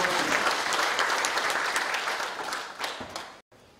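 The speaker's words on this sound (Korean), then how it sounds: "다시 한번 힘찬 박수 부탁드리겠습니다." An audience at a seminar on developing Icheon's industry applauds in a sustained burst of clapping that tapers off toward the end and cuts out briefly.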